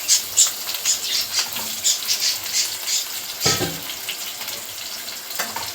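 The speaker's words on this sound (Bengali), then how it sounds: "পেঁয়াজ কুচি দিয়ে দেবো।" Chopped onion frying in a pan, a steady close hiss and crackle of sizzling oil with small popping spatters and occasional stirring scrapes, and no talking.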